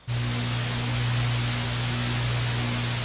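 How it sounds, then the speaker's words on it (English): Steady broadband hiss with a low electrical hum underneath from a Native Instruments VHS tape effect plugin, starting abruptly and continuing evenly like worn videotape noise. "this plugin adds noise"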